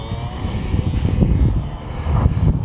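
A HobbyZone Sport Cub S radio-controlled model airplane buzzes overhead outdoors, its small electric motor and propeller giving a fluctuating droning whir that swells and fades as it flies in gusty wind.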